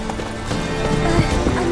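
A horse galloping in The Witcher 3, steady rapid hoofbeats close by under a continuous wash of ambient game noise, with no pause across the short stretch.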